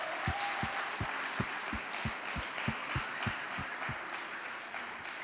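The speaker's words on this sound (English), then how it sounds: "Let's give them another round of applause" Applause for a student demo day batch in Lisbon: a crowd clapping steadily amid a dense wash of sound, with a faint regular thumping pulse underneath and no talk.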